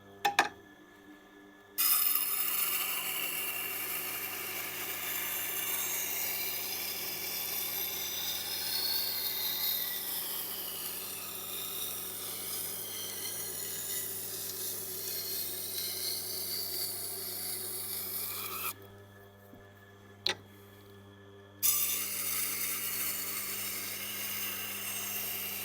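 A kitchen knife is ground on a Tormek 80-grit stone, giving a continuous rasping scrape over the low hum of the machine, with the grinding breaking off briefly twice and then resuming.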